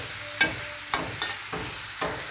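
Watermelon curry stirred in a pan, with about four distinct scraping strokes of a spatula spaced through a steady low sizzle, close and moderately loud, no voices.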